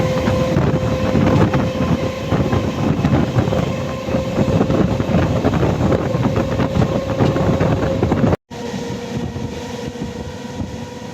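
A MEMU passenger train on the Tirupati to Katpadi Junction line runs steadily, a loud continuous rumble with a sustained hum and rattle, cut by a brief dropout before the droning resumes.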